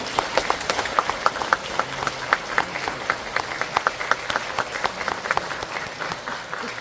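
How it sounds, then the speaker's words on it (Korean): An audience applauds steadily, a dense crowd clapping that holds at an even level throughout with no talking over it. "박수 한번 더 크게 쳐주십시오."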